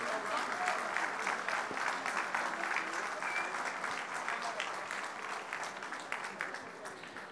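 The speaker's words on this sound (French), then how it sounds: "L'équipe tchèque, s'il vous plaît, on les applaudit bien fort" An audience applauds the Czech team at the opening ceremony of the WAC 2019 championship, a dense, steady wash of many hands clapping throughout, moderately loud and fading slightly toward the end.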